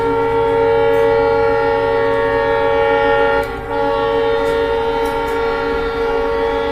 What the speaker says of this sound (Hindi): जनशताब्दी एक्सप्रेस ट्रेन मतलबपुर पर हमें ओवरटेक करती हुई